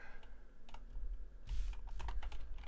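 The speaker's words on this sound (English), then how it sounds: "I suck at typing on this keyboard so much" Typing on a computer keyboard while a 4K monitor with bad capacitors is being repaired, with a steady run of close, light key clicks and a few heavier taps, no voices.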